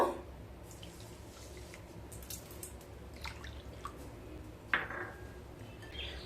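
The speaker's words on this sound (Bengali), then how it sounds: "প্রথমে ডালিয়াগুলোকে ভালোভাবে ধুয়ে নেব।" Dalia (broken wheat) being washed by hand in water: soft squishing and dripping with light splashes, faint and close, with a sharper splash near the end.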